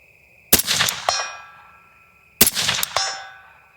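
Two suppressed shots from an M1A EBR rifle in 6.5 Creedmoor are fired at night about two seconds apart. Each is a sharp, loud crack followed by a ringing metallic tail that fades out.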